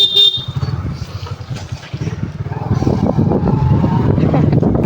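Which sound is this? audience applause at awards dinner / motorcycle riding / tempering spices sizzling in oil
motorcycle riding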